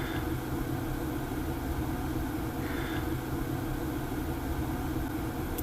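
A Power-Fist air die grinder runs on compressed air at about 50 psi and roughly 11,000 RPM, giving a steady, loud, even whine and hiss with no pauses.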